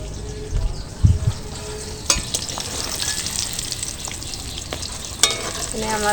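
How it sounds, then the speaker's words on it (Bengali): Potatoes with a little turmeric fry in a pan, giving a steady close sizzle broken by a few sharp clinks and scrapes of stirring. "আমার আলু ভাজাটা হচ্ছে"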